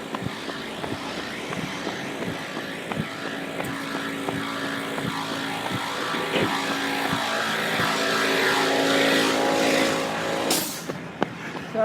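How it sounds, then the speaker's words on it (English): Small air compressor running nearby outdoors, a steady mechanical drone that gradually builds in loudness, then cuts off abruptly near the end. "That was the sound of a small compressor."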